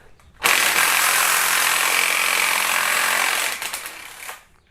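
A ratchet with a 12mm socket removing the high pressure fuel pump mount on a Kia Optima engine, with one loud, continuous rattling buzz lasting several seconds, then a brief uneven tail as it stops.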